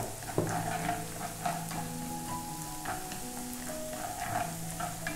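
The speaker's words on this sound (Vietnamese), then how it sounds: "Xả với hành với tỏi thơm rồi mình cho ớt băm vào đây" Lemongrass, shallot, garlic and minced chilli sizzle and fry in a pan over a wood fire, a steady crackling hiss with occasional stirring scrapes and no talking.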